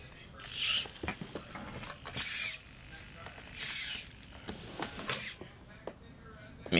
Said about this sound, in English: So this is what the front one-way bearing does. Keeps rolling.